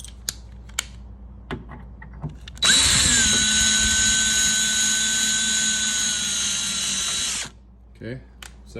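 A power drill runs in one loud, steady whine for about five seconds while installing a side mirror on a 1971 Corvette, preceded and followed by small clicks and handling noises.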